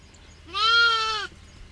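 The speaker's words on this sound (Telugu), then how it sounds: "ఇవి గొర్రె పిల్లలు మేకలు" A single lamb or goat bleats once, clear and close, a short wavering cry of under a second over quiet farm background.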